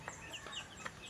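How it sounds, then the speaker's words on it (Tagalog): Chickens cluck in short bursts, a few soft calls spaced across a brief moment, with light outdoor background noise. "ako po ay nakapagpatulka na po ng mga manok. Yan nga po, at sila ay nandyan pa sa harapan"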